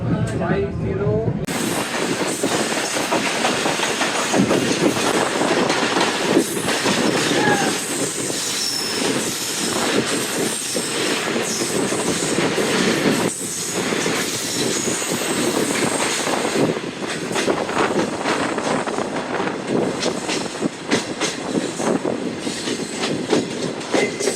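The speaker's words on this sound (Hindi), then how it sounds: "अचानक ही मिली है पाकिस्तान एक्सप्रेस" Pakistan Express train passing at speed on the Pakistan Railways ML-1 main line, a loud continuous roar of rushing wagons with rhythmic clickety-clack wheel beats and squeals for over twenty seconds, with a voice speaking briefly over it.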